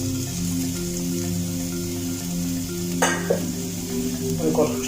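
Capsicum sizzles steadily in a frying pan that was just used for chicken, a soft continuous hiss, with a couple of spoon or pan clinks partway through.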